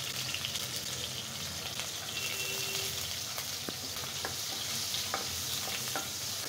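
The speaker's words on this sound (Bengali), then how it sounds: "আমি এখন খুব সুন্দর করে রসুনটা একটু ভেজে নেব।" Chopped garlic frying in hot oil in a pan, a continuous dense sizzle with occasional light stirring ticks and scrapes, close and steady with no voices.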